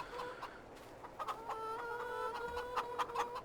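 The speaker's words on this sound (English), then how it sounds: "We've got a lot of chickens." Several chickens cluck and murmur in a farm pen in Farming Simulator 22, with soft, irregular calls overlapping at close range.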